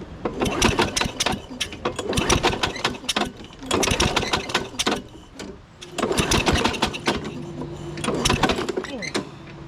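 A 1998 Ariens 21-inch self-propelled lawn mower engine runs with its exhaust removed, a loud, rapid, uneven popping and clattering that surges and drops in bursts, close up.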